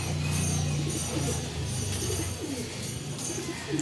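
Racing pigeons coo in low, throaty, repeated calls close by during a pigeon race in Buenavista, Quezon, with a steady background hum and soft fluttering rustles.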